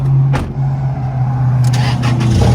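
A Toyota Tacoma mid-alternator repair cranks over with a loud, close, steady engine drone that holds level for a couple of seconds amid workshop noise.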